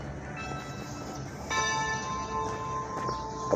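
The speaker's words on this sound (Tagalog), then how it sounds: "Kampana lang ng simbahan ng maririnig." Church bells ring out across a quiet neighborhood, sustained bright tones layered and decaying, with a fresh louder strike midway, faint and moderately distant with low background hum.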